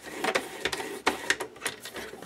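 Paper being scored for a fold with a scoring tool while making an anthology album: repeated short scraping strokes, close and moderately loud, in an uneven rhythm with brief pauses between passes.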